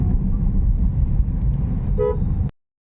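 Busy road traffic in Akola rumbles loudly and close, with a short car horn toot rising above it near the end before the sound cuts off abruptly.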